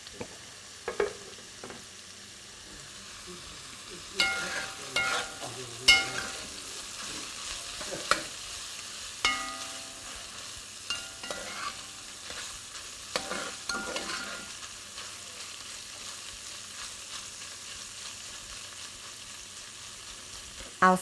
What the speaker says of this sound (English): Our shrimp gumbo is starting to boil, so we have to keep a close watch on it that it doesn't boil over.